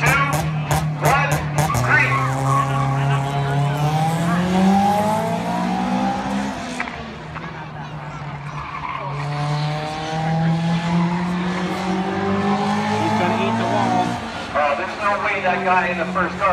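A Honda and an American car launch side by side at a drag-style start at Varney Speedway, engines revving high and rising through gears, tires squealing, with a voice talking over the roar.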